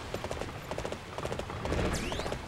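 Horse hooves clip-clop in a Dynasty Warriors 8 battle, a quick, busy patter of hoofbeats over dense game noise, with a faint whinny-like sweep near the end.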